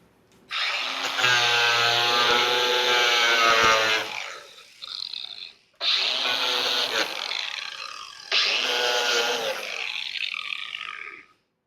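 A cutoff wheel, or death wheel, slices open a cardboard box on a welding bench, a loud whining grind in three bursts separated by brief pauses, close and without talk.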